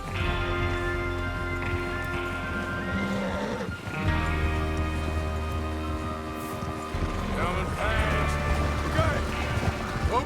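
Horses neigh and whinny amid hoofbeats and a low rumbling background in Red Dead Redemption 2, as a gang rides out from Colter. The calls recur over a steady din with some talk mixed in.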